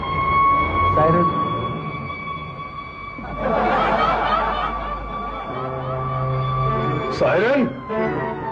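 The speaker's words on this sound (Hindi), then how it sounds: "सायरन, पुलिस भाइयों भागो।" A police siren sound effect in a Hindi TV sitcom holds steady tones under loud talk and bursts of laughter, with a louder flare near the end.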